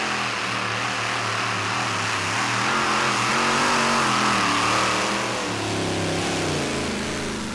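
Chevy 540 engine on the modified tractor Hothead, a 0.95-ton machine at a 2008 European Championship tractor pull, roaring loud and steady throughout with a sustained, slowly rising and wavering pitch as it pulls.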